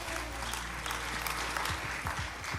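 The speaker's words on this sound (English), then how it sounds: "let's give all of the members in that order a round of applause" A crowd claps for honours recipients at a national investiture ceremony, a continuous, fairly distant round of applause over a low steady hum, with a few sharper claps standing out near the end.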